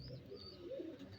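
An old racing pigeon, around 17 to 18 years of age, coos softly in a low, wavering murmur, faint and close, with a light chirp from another bird nearby.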